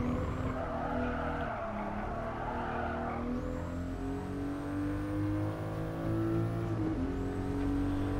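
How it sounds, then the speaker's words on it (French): A racing car in the Gran Turismo Sport video game revs and accelerates, its engine note rising through gears with a faint high turbo whistle and a tyre squeal over steady engine drone. "On entend un petit sifflement. C'est le turbo qui doit s'enclencher."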